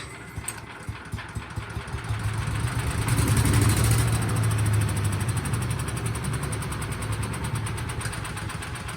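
A Cub Cadet CS 2210 chipper shredder's small engine is pulled over, giving a few rhythmic cranking chugs before catching and running in a rough, steady idle close by.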